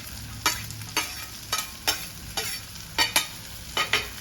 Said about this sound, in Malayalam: കാപ്സിക്കം ഇട്ടിട്ട് ഒന്ന് വഴറ്റണം.